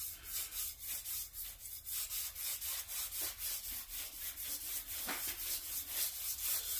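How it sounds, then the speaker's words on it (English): Sandpaper is rubbed back and forth on a crankshaft journal in a steady scratchy rhythm of about three strokes per second, each pass a bright rasping swish, close and continuous with no voices. "you just kind of work it, the sandpaper back and forth to get to the edges"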